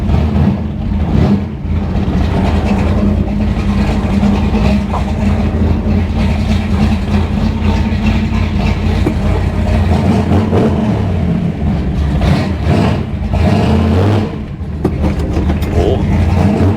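A vehicle engine idles in an old shop yard with the hood up, a loud steady low rumble running continuously with slight fluctuations throughout.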